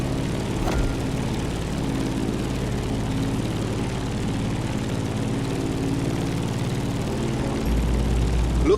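A propeller airplane engine in the racing video game The Crew Motorfest, a steady droning hum held throughout while climbing, with a slight rise in loudness near the end.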